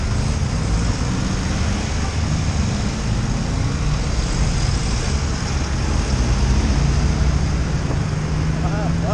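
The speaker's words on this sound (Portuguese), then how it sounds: "escutem agora, ó, o barulho da pampa, ó, chegando" A Pampa pickup approaching on the road, a steady broadband engine and tyre roar that stays loud and fairly constant throughout, heard from alongside a moving motorcycle with wind noise.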